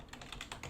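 Quick, light keystrokes on a computer keyboard, about half a dozen soft clicks in a brief run, faint and close.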